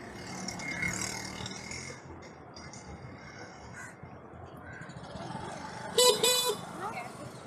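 A brief, thin horn on a Hero Vida VX2 electric scooter beeps twice in quick succession near the end, over road noise and a rider talking.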